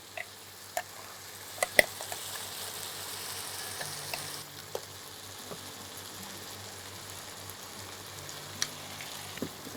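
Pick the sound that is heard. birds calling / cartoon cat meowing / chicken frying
chicken frying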